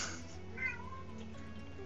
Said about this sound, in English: And a kitty crying.